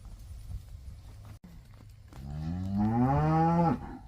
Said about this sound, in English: They're talking to each other, our cows and then the new ones.